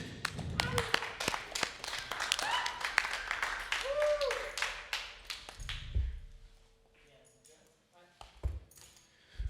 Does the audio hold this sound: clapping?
yes